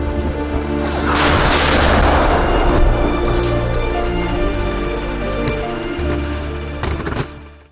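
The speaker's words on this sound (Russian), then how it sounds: "Взрыв, унесший жизни безоружных журналистов." A deadly explosion strikes near journalists in a conflict zone. A sudden loud blast erupts and rolls into a long, heavy rumble that slowly fades, with another sharp crack near the end.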